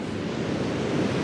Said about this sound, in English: just trying to capture that wave as it crashes